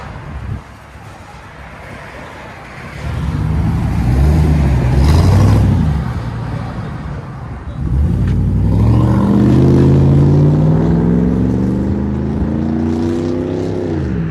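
A 2001 Chevy Tahoe with a 5.3L V8, straight pipes and a muffler delete with a resonated Denali tip: a loud, deep exhaust rumble that builds as the engine revs hard, eases off, then surges into a second strong run.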